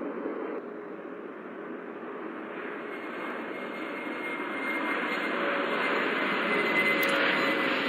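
A jet aircraft taking off from runway 31 at Vancouver: a steady broadband engine roar that slowly swells louder over several seconds, heard alone without voices.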